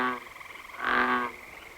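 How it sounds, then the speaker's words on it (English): A frog croaks near a pond, a single harmonic call that swells once in the middle of the short stretch, heard close and fairly clear over faint background. "There is the frog."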